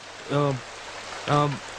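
Rain falls in a steady, even hiss throughout, while two short voiced sounds stand out briefly over it.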